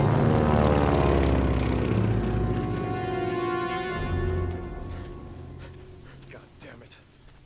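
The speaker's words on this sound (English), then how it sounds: "Incoming plane!" A World War II-era propeller plane passes overhead with a loud droning engine roar that slowly fades as it moves away, while voices talk faintly in the background.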